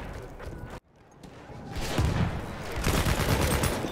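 Close machine gun fire in Battlefield 1 on the Ballroom Blitz map, around a chateau, a steady loud rattle that cuts out briefly, then resumes and builds into dense sustained bursts.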